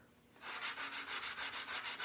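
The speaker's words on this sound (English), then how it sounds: "I'm going to sand that off a little bit." A sanding block rubbed back and forth over a surface in quick, even strokes, about a dozen soft rasping sweeps, close and faint.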